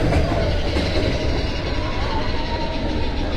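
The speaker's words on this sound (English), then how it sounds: "Let's see if I can hang on a minute for a train to come by." A train rolls past at close range at the Magic Kingdom, a loud continuous rumble with rhythmic clickety-clack of wheels on rails and faint wheel squeal, steady for the whole stretch with no talking.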